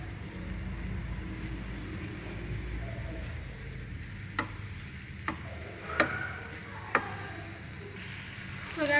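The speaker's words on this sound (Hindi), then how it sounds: "इसको अब हम फ्राई कर रहे हैं प्याज के" Onions frying lightly in a pan for moli paratha give a steady soft sizzle. A few sharp ticks and stirring clicks rise above it, close and fairly quiet, with no talking.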